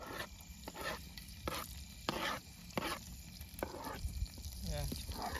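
Garlic and onion fry in a pan at a night-time riverside cooking party. A steady hiss and sizzle is broken by repeated stirring scrapes, with faint voices in the background.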